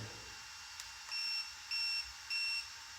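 Three short, evenly spaced electronic beeps from a Mini Kraton RC car, high-pitched and clean, over a faint background hiss.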